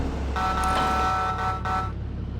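A vehicle horn in Farming Simulator 22 sounds one sustained blast of about a second and a half, loud and near, over a low engine rumble.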